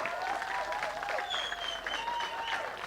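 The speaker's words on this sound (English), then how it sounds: "Round of applause for Nathan Mulibo." A school farewell luncheon crowd applauds a graduate's speech, steady clapping close by with a few faint shouts and cheers rising over it.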